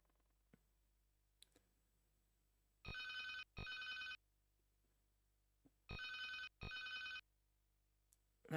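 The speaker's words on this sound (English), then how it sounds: "That is the phone that lets you know it's ringing" Electronic telephone ringing in an Amiga video game: two pairs of short, bright double rings separated by a quiet gap, with faint clicks in between.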